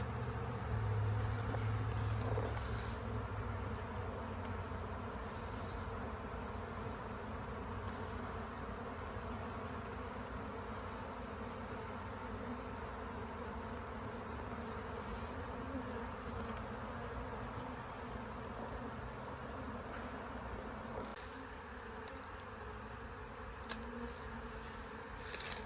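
A honey bee swarm buzzes around a hive in spring, a dense, continuous droning hum of many insects, close and steady throughout, with a few faint handling knocks.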